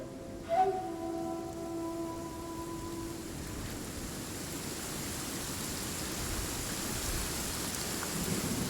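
Steady rain hiss with a low thunder rumble fills a video game scene, a brief tonal chime near the start and the downpour continuing alone throughout.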